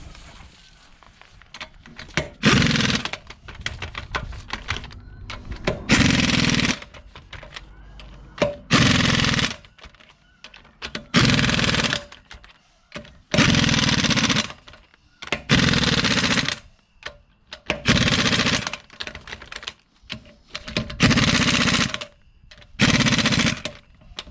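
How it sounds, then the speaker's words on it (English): Pneumatic air impact gun hammering in loud, close bursts of a second or two each, repeated about ten times with short pauses, during a brake job on a 2010 Dodge Caravan. "Now I know when I use my air gun, I'm not going to hurt anything or break anything"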